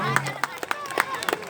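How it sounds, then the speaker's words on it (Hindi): An audience at an Ambedkar Jayanti celebration in Kanpur claps in scattered, uneven bursts of a few hands, fairly faint and brief, mixed with crowd murmur and some talking. "तालियां बजा दीजिएगा भैया।"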